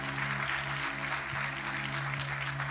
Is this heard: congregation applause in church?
yes